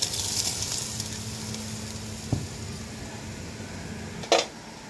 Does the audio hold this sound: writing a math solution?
no